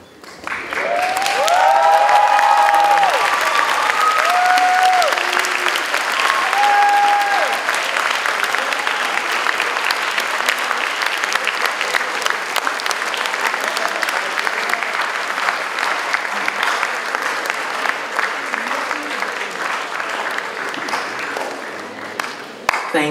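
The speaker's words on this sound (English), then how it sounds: "join me in a round of applause for all the people who have made today possible for us" Graduates in a large hall give a sustained round of applause at the SHATEC 2015 culinary graduation ceremony, a dense, steady wash of clapping lasting over twenty seconds with brief tonal sounds near the start.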